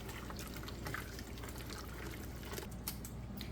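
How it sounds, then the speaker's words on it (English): A whisk stirs pectin into a liquid strawberry jam mixture in a pot, a steady, soft, wet swishing and sloshing that carries on without a break. "Now that the pectin's in, I'm going to whisk it until it is completely incorporated."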